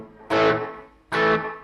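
Two strummed electric guitar chords pass through a Boss DD-3 digital delay pedal on a short delay setting, each attack thickened by a tight, reverb-like echo that decays quickly, heard alone and fairly close.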